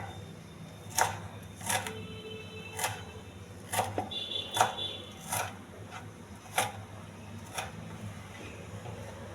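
Knife chopping fresh coriander finely on a board, with about nine sharp, evenly spaced chops over a low steady background hum and no voices.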